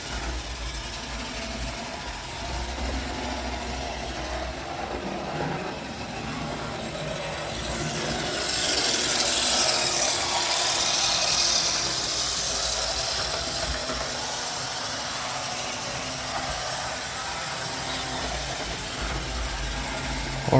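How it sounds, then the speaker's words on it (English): An OO gauge Class 42 Warship model locomotive runs with a continuous low mechanical whirr from its gears, steady and close with a slight swell midway, no grinding evident. "The gears are sounding healthy, so I'm not hearing any kind of grinding or anything"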